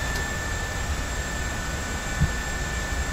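Steady broadband engine roar from a Boeing 737-500 in a flight simulator, heard through an open cockpit window, with a constant high whine over a continuous low rumble and no talk.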